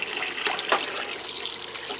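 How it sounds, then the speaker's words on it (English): Water gushing from a camper tap after a Surflo 2088 pump replacement: a steady, hissing stream running continuously at close range with no voices. "that's pretty good water flow"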